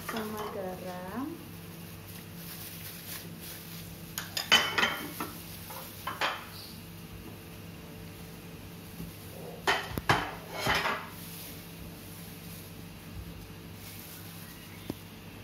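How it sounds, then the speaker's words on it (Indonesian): Metal pots and utensils clink and scrape in a kitchen during a jamu-making class as turmeric water is heated in a pot with palm sugar and salt, with a few clustered clatters over a quiet, steady background. "Masukkan air kunyitnya dalam panci, nyalakan api, masukkan gula merahnya bersama garam"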